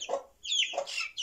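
A Cochin hen with feathered feet gives a few close, soft clucks and squawky chirps in quick succession.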